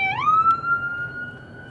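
An emergency vehicle siren, likely an ambulance or fire truck, rises in a quick upward sweep and then holds a steady wailing tone, loud and close, with no speech.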